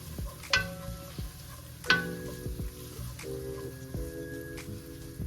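Carrots cooking in a pot for broccoli cheddar soup, a quiet sizzle with a few sharp clinks and knocks of a utensil against the pot, fairly close and low in level.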